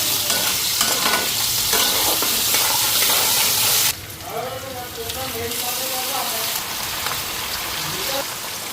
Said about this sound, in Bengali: আলু আর পেঁয়াজটা ফ্রাই করে নিতেছি লিভার পটের জন্য